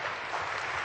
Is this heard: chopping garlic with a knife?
no